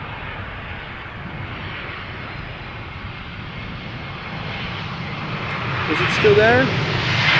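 Vueling Airbus A320 on arrival from Alicante at Schiphol, a steady broad engine roar that swells slightly toward the end, with a brief voice speaking over it.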